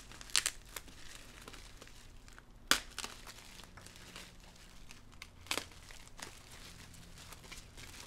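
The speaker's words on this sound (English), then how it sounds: "just put the X-Acto knife right through it, and it'll just tear the tape right open" Packaging tape being torn open on the box of an eBay LSx throttle body, with a few sharp crinkling rips spread across the clip over quiet rustling of cardboard and wrap, close and fairly soft.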